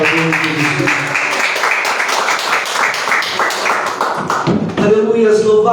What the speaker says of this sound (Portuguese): E a igreja pode se assentar e bater palmas para o nosso Senhor e Salvador Jesus.